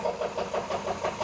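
A 1978 Cadillac DeVille engine idles after sitting more than fifteen years, its steady mid-pitched running pulsing in a regular rhythm with a faint repetitive lifter knock, close and alone.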